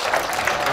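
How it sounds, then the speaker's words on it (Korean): An audience claps after a sand animation performance, a brief steady wash of applause without individual claps standing out. "관객들은 박수로 화답한다."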